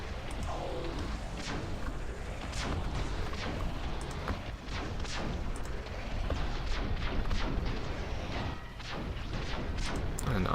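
Tower-defense towers in a video game keep firing beams, proton pulses and cannon shots, giving a rapid, dense run of sharp bursts and booming hits over a rumbling bed that stays loud the whole time.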